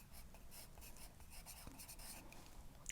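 Pencil scratching across paper while writing or drawing, a soft continuous rasp with small strokes, close and quiet, no voices.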